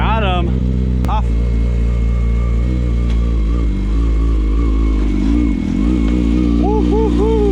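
A stunt motorcycle doing a burnout on a ramp: the engine holds a steady, loud drone with wavering revs and rises at the end, while people talk and shout over it throughout.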